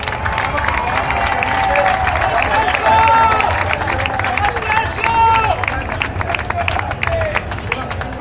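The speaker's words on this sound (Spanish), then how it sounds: "¡Un aplauso a Sergio Corroto!" A crowd applauds and cheers for a member of a league-winning football club, dense clapping with whoops and babbling voices mixed in, loud and sustained over several seconds.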